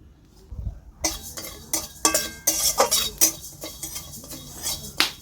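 Metal spoon scraping and clinking in a pan as whole cumin and coriander seeds are stirred, in irregular close strokes with soft rattling between.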